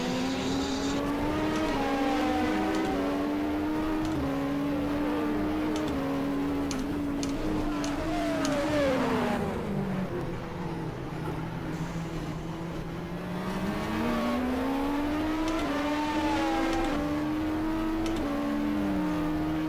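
Race cars in the GTR2 racing game, including a leading Porsche, roar continuously as the engine note climbs and drops through gear shifts, a loud, close, sustained whine with no voices.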